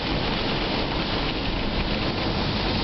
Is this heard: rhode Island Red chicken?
no